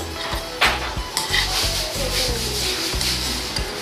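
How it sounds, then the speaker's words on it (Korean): Thick, creamy cold soybean noodle soup (kongguksu) broth being eaten at a Daejeon restaurant, heard as close, continuous slurping and rubbing mouth sounds with small repeated low thumps, steady and fairly loud with no talking. "이 콩국수의 그 꾸덕꾸덕한 그 국물 소리"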